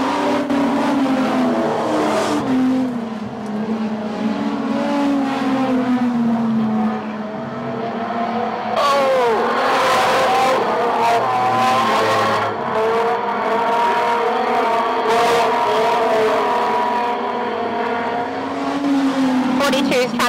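Street stock race cars roar around a dirt speedway at Cullen Bullen Raceway during a heat race, engines droning steadily and rising as cars pass, with a race announcer calling the action over a loud, continuous engine din.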